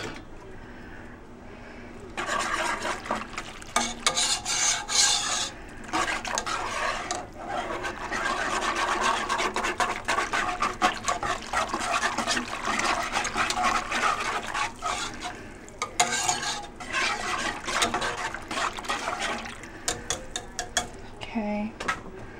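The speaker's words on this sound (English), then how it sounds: "mix the flour in. I'm gonna get a whisk." Flour is whisked into potato soup in a pot at home: a steady, rapid metallic scraping and clinking of a whisk against the pot runs for about twenty seconds, close and fairly quiet, with no talking.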